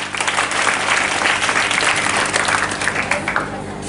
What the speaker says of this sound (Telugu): చప్పట్లు కొట్టుకోండి